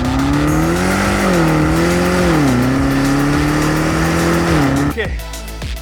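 Range Rover Sport SV engine accelerating hard while driving, a loud, steady rising drone with shifting pitch as it pulls through the revs, ending in a sudden clatter and drop-off.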